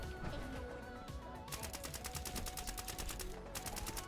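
Rapid bursts of gunshots in an online multiplayer game ring out in a fast, regular volley, continuous and moderately loud over background game noise for several seconds.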